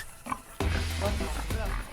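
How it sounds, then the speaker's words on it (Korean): A pig squeals at a Mosuo household in rural China on slaughter day, when men gather at the pigsty in early morning. The shrill cries come close and loud, mixed with voices. "돼지 잡는 소리로 온 집안이 떠들썩하네요."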